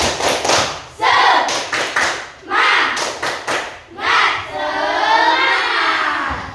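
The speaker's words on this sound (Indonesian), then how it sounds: "mari kita tepuk semangat" Schoolchildren do a rhythmic group clapping chant, loud close bursts of patterned claps in several phrases, separated by short pauses and mixed with shouting voices, ending in a held vocal cheer.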